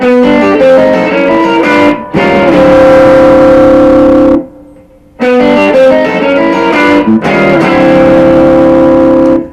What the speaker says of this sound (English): this is an ascending lick for a turnaround